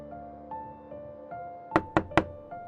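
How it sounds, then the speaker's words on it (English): Three soft, evenly spaced knocks on a door sound in quick succession over a low, sustained musical drone. "there was a knock at my door"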